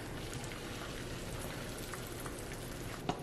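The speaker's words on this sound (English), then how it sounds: "As you guys can see, the egg is frying." Two scrambled eggs sizzle in a pan heated with butter, giving a steady, dense crackle and hiss that runs unbroken and fairly close, with no talk over it.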